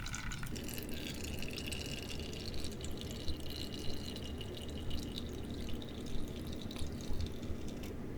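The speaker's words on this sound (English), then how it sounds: "pour the water from the sump tank back into the fish tank" Water poured from a sump tank back into a fish tank in a small aquaponics setup, a steady splashing trickle with drips running close and continuous for several seconds.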